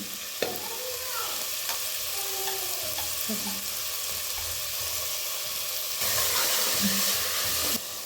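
Onions frying with garlic ginger paste in a pan for rajma curry: a constant dense sizzle with a sharp clatter early on and occasional stirring scrapes, close and alone, swelling louder toward the end.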